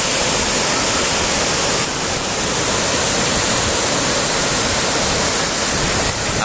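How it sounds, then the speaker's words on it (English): Loud, unbroken roar of ocean waves and wind at a beach, a dense broadband wash with no clear individual breaks, filling the whole stretch without any talking. "I wonder if you guys can all hear me over the sound of the waves and the wind"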